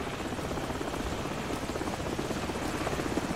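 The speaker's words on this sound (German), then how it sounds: "Helikopter ist zurück." A helicopter in Call of Duty 4: Modern Warfare hovers nearby with a steady, continuous rotor thrum and engine roar that holds without a break.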